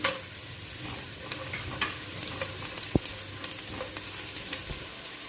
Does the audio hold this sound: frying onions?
yes